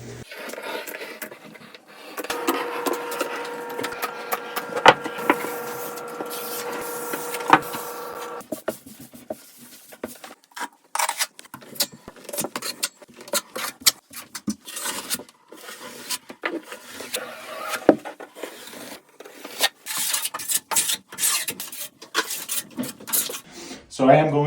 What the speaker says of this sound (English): now what we're going to be doing is troweling out our wall, back buttering our pan itself